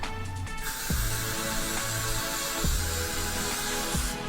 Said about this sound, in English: So I'll go ahead and spray this layer and I'll let that air dry